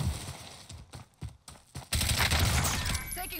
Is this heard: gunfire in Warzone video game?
yes